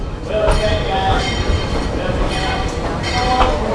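The Dollywood Express train rolls along at steady speed, a loud continuous rumble with rhythmic rail clatter and brief squeals, close by, with voices underneath.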